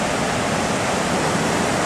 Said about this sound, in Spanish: Mirad qué olas, tío.